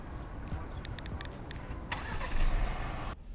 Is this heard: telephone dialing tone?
no